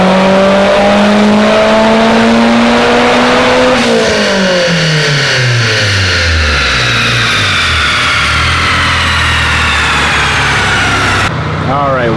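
Mitsubishi Evolution engine on a dyno, revving in a steady pull, its pitch climbing to a high scream, then dropping back as the pull ends. It is loud, close and continuous, with no talk over it.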